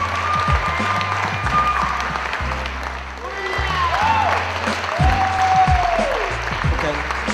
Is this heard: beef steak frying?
no